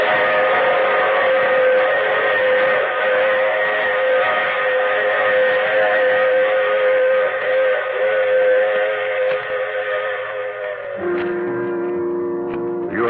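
A radio-drama train sound effect runs steadily throughout, a continuous mechanical rumble with a layered whistle-like tone, loud and unbroken, with a brief shift in texture near the end and no talk.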